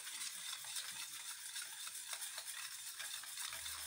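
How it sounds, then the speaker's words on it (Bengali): Sugar being stirred by hand into oil and milk for an eggless sponge cake batter gives a steady, close swishing and scraping that runs without a break, with no voices. "এটা হাতেই আমি চিনিটাকে গলিয়ে নেব।"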